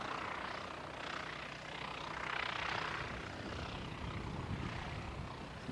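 The Wellington flight aircraft, a distant, steady broadband engine rumble and rush that swells slightly midway, faint and without voices.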